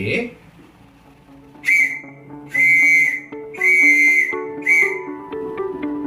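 Loud whistle-like Morse code tone for the letter P, beeping short, long, long, short over a soft background melody.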